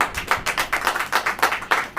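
A church congregation clapping hands in a steady rhythmic beat, about a dozen even claps over two seconds, fairly close and with no talking.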